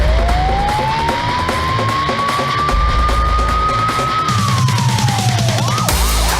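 A State of Mexico security patrol car's siren wails loudly during a pursuit, its tone rising slowly, holding, then sliding down into quicker yelps over close, rumbling engine and road noise.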